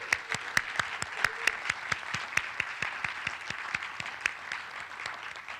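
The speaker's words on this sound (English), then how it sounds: "Let's give her a round of applause." A community arts awards audience applauds an award recipient with steady, evenly spaced claps over a soft wash of clapping, moderately distant and continuing for several seconds without talk.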